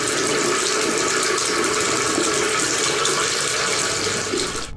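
Water pours steadily from a house faucet, a loud, close, unbroken rushing hiss that cuts off abruptly at the very end.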